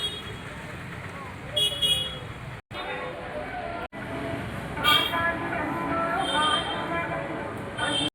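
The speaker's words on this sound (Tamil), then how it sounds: "ரொம்ப பிஸியாக இருக்கிற தெரு இது. இங்கே டிராஃபிக் ரொம்ப அதிகம்." Traffic on a crowded street outside the Peri Subramaniar Murugan temple in Vellore, with a steady rumble of vehicles and several short horn toots over distant voices.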